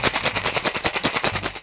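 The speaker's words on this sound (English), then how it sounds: "chuck your shaker top on and give it a bloody good shake" A cocktail shaker with its top on, mixing a Cannibal Reviver with Peychaud's bitters, is shaken hard in a fast, steady rattle of sharp, loud pulses that runs unbroken with no voices.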